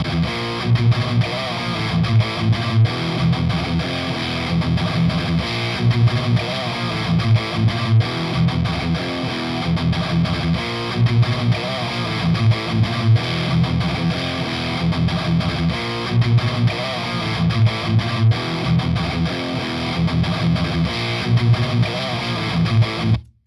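Overdriven electric guitar through a BluGuitar Amp1 Mercury amp with its boost engaged, playing a steady, thick metal riff with a crunchy, saturated tone, loud and continuous with no voices.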